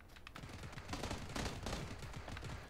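Dense, rapid gunfire rattles on without pause in PUBG on Xbox One X. The clicks and shots sound distant and fairly faint, like a steady fusillade with no talk over it.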